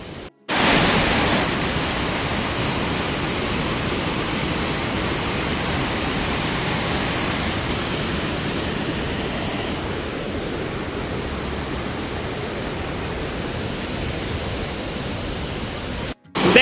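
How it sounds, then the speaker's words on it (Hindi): The Arpa river rushes fast over a weir, a loud, steady roar of churning water that fills the whole stretch, close and unbroken, with no voices. "बहुत ही ज़्यादा खतरा देख सकते हो कितना स्पीड से उलट से निकलते पानी है"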